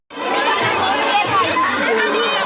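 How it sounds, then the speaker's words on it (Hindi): A dense crowd chatters at a village Durga festival, many overlapping voices forming a loud, steady hubbub close by, with faint shouts and laughter mixed in. "ते बोली ना संगवारी हो एकदम भीड़ है।"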